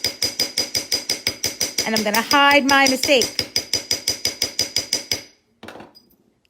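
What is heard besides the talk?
texture hammer striking metal stamping blank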